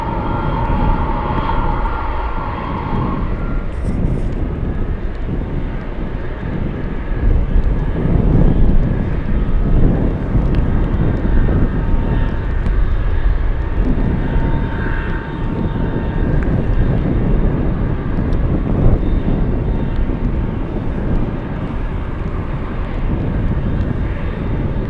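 A Boeing 747 at Anchorage airport on runway 15 in gusty wind, a broad steady jet roar holding loud and even throughout, with wind rumble beneath and no talk.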